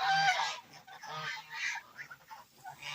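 Geese honk in a run of loud, nasal calls that come in uneven bursts, several birds close by with no talking.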